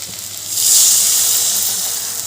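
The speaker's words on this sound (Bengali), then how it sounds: "এবার দিয়ে দিচ্ছি জল" Water poured into a hot pan of fried spices and oil sends up a loud, close steam hiss that swells quickly and then holds steady, fading only slightly, with no voices.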